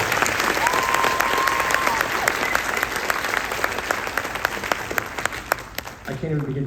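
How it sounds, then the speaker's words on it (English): A concert hall audience applauds a high school concert band at a spring concert with dense, steady clapping that fills the room for several seconds before thinning out at the end. "And how about a round of applause for our band?"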